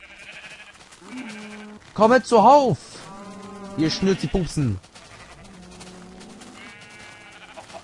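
Minecraft sheep let out several loud, wavering bleats in short bursts, mixed with German speech from a player tending farm animals.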